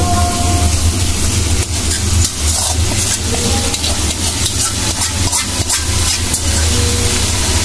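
Fried eggplant is poured over hilsa fish frying in a pan for curry. A loud, steady sizzle and hiss stays close and continuous throughout, with a few brief clatters mixed in.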